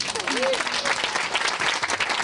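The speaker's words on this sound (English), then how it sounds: "I think we should give a clap to these guys" Wedding guests clap in a dense, continuous burst during a groom's speech, with a brief voice briefly audible under the applause.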